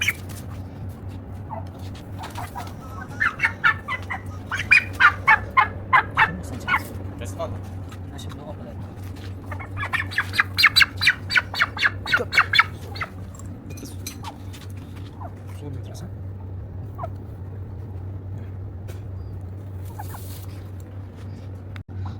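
Farm turkeys gobble and squawk while being vaccinated against pox, two bursts of rapid rattling calls over a steady hum, with people talking around them.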